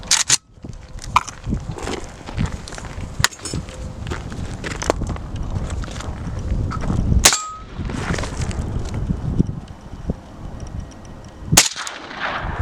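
AK and AR-15 rifles fire at steel plates on a windy range, with a few sharp, spaced shots and metallic impacts standing out over constant gusty wind rumble.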